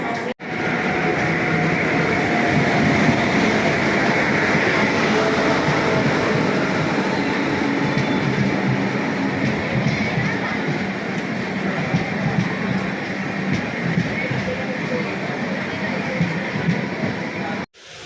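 A train arriving at a station rumbles steadily and loudly nearby, a continuous roar of wheels and carriages that cuts off abruptly at the end.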